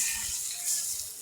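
Water pours into a cooking pot for Filipino chicken tinola, a bright rushing splash that flows evenly for about a second close by, with no voices.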